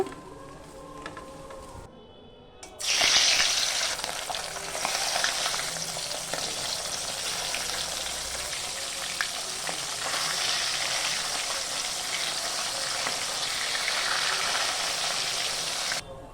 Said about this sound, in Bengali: মাছগুলো ভেজে রেডি করে নিয়েছি।